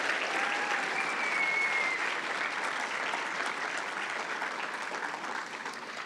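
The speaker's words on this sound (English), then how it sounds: "Let's applaud our BA Honours Psychology graduates." Sustained applause from a graduation audience honoring BA Honours Psychology graduates at a Cornerstone Institute ceremony, steady dense clapping filling the hall for the full stretch and easing slightly toward the end.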